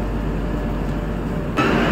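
An Indian Railways Garib Rath Express pulls away from New Cooch Behar station, a steady rumbling rail drone heard from inside the coach that swells louder near the end.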